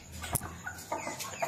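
A hen clucks in short, close bursts, a few sharp calls spaced unevenly over a second and a half.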